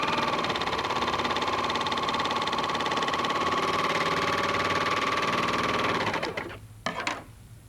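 A Brother overlock serger stitches a test sample of fabric, a loud, fast, even mechanical hum running steadily before stopping near the end with a few brief clicks.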